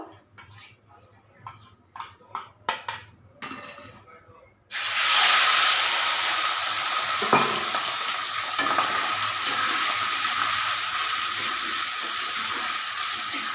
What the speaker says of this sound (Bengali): এবার আমি মাছগুলোকে ভেজে নিচ্ছি মাছগুলো আমি তেলের মধ্যে ছেড়ে দেবো